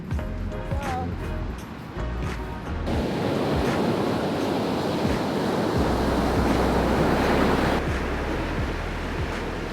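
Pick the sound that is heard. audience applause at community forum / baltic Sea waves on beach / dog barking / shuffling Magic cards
baltic Sea waves on beach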